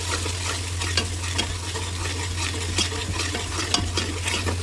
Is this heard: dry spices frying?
yes